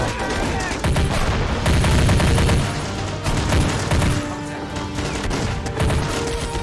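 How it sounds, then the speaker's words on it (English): Dense, continuous gunfire and explosions fill a large battle-simulator firefight between commando squads, with overlapping rifle and machine-gun bursts rolling on loudly without a break. "An epic firefight"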